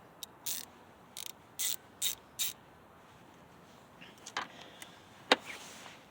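Ratchet with a 10mm socket working on a 2017 Mitsubishi Mirage G4 during an ignition coil boot replacement: a few quick clicking ratchet bursts close by, then scattered quieter clicks and a sharp metallic tick, in a quiet garage with no talk.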